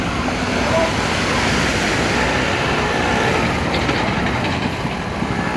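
Water rushes hard from the opened gates of the Bargi Dam on the Narmada river, a loud, dense, unbroken roar that holds steady throughout.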